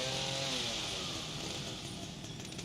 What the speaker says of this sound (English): Use the chainsaw.